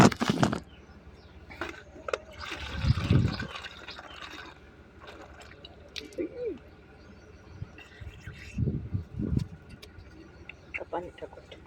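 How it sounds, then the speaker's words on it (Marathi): Water is poured from a bottle onto chilli plants in a small garden, a short splashing fill early on, followed by scattered knocks and rustles while people talk intermittently. "आपण मिरच्याला पाणी टाकूट."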